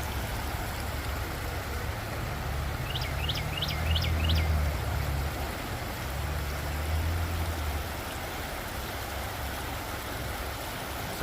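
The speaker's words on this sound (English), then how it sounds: "Looks like the water flows down that way." A stream runs along a hiking trail near Lithonia, Georgia, giving a soft, steady wash of flowing water. A brief series of bird chirps sounds midway, and a faint low rumble passes in the background.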